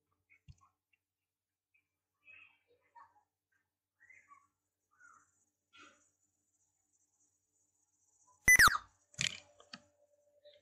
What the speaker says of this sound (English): until you hear a beep sound again